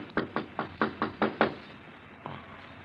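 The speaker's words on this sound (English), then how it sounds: "There's someone at the door." Seven quick, firm knocks on a door in a rapid even rhythm, then a pause and one fainter knock, close and otherwise quiet, in an old-time radio mystery drama.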